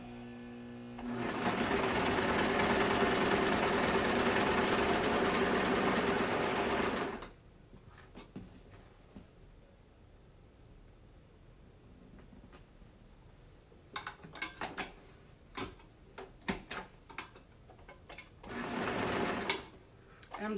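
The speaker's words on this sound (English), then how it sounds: "Just sewing up some of my stuff so I can come back and do a little bit more later." A sewing machine stitches headbands nearby in a long, steady whirring run. It is followed by quieter handling and some talk, then a second short burst of stitching.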